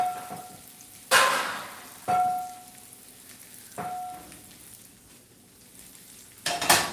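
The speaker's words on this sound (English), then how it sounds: "Back burner it, and I'm gonna get a smaller pan." Pans clatter on a stovetop as a cook moves a pan to the back burner and fetches a smaller T-fal pan, with several loud metallic clanks separated by gaps, over a steady sizzle of frying food.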